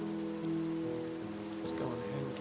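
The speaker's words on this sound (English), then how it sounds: "It's already starting to rain." Rain falls in a modded hardcore Minecraft world, a soft steady patter under a low tonal game background with faint brief sounds.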